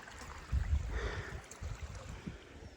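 Cold, clear mountain stream water flowing down past a village in Nepal, a steady broadband outdoor rush with a few louder surges, moderately near and heard without talk.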